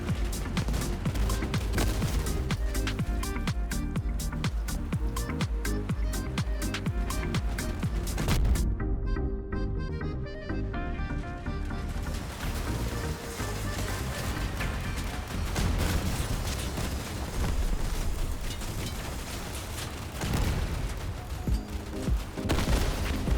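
Shotguns blast away in a vehicle battle in the wasteland of the video game Crossout, a dense, loud run of rapid gunfire bursts that eases off briefly midway before pounding on again.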